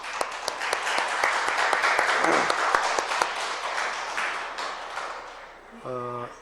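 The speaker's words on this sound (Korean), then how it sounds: "박수를 치시려면 확실하게 치셔야 박수 한번 해주시기 바랍니다." A church congregation applauds during a Sunday morning worship service at a Baptist church in Daegu, a dense, steady round of clapping filling the room for several seconds before a short voice breaks in at the end.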